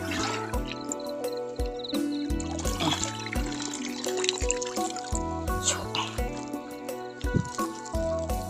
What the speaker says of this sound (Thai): ตักน้ำ